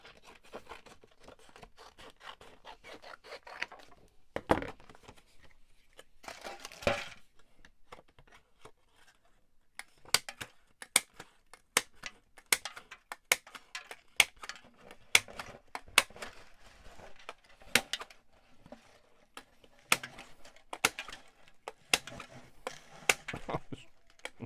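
Scissors or a blade snipping off loose pieces of material during house work, heard as a long run of sharp, irregular clicks and snips close by, with short rustling bursts in between and no talking.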